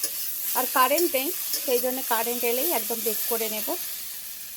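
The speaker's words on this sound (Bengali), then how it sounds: "একটু ঢাকা দিয়ে দিয়ে ভাজছি আর কি" Food frying in a covered pan at night gives a steady, soft sizzling hiss that runs the whole time beneath someone talking close by.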